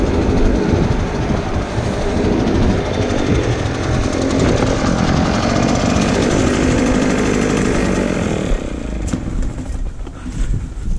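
A Craftsman lawn mower with a Honda engine runs loud and close on a frosty November lawn, a steady rough mechanical roar that eases slightly near the end.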